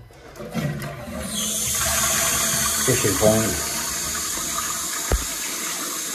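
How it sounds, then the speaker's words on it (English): A toilet cistern refills after a flush, water hissing and trickling steadily into the tank, close and fairly loud at first, then settling to a quieter fill, with brief speech over it. "Filling up to the water line."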